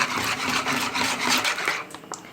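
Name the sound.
stirring food in a frying pan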